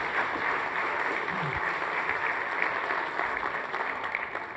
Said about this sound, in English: when the title of your book gets a round of applause